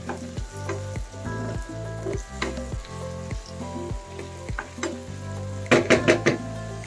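Clams and mussels sizzle and fry in a pan while a utensil stirs them in a steady rhythm of scraping strokes. A brief clatter of metal comes near the end, and there is no talk.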